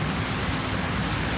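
Steady rain falls in a broad, even hiss, like a constant wash of drops on an outdoor surface during an open-air tandoori chicken cookout, with no voices.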